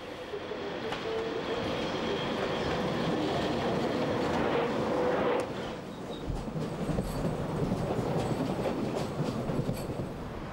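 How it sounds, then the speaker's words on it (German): A Deutsche Bahn class 111 electric locomotive train in 1990s S-Bahn service rolls past with a steady rumble, wheel clatter and brief squeals, loud and close throughout. "Auch E-Loks der Baureihe 111 sind im S-Bahn-Dienst."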